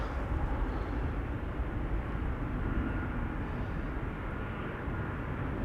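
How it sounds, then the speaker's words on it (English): Steady broadband rotor and engine drone from a police helicopter flying near Amsterdam Schiphol Airport, a constant, moderately loud rumble with no voices. "I'm hearing a helicopter."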